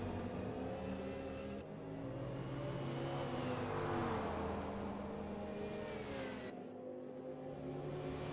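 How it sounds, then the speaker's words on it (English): A race car in the video game Forza Motorsport hums steadily in the distance, its engine pitch climbing and then dropping as it shifts gears, smooth and continuous. "You can hear his car right when it gets ready to shift."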